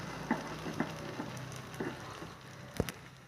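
Bread dipped in batter fries in a pan of oil, giving a faint, soft sizzle with a few small pops and crackles scattered across a quiet background.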